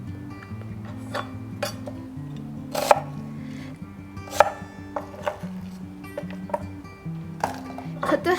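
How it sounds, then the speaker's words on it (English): Knife chopping onion into blocks on a cutting board, a string of sharp irregular chops with occasional clinks of utensils, under a steady bed of background music or tonal hum. "Leave a few big layers to use in the broth and chop the rest into blocks."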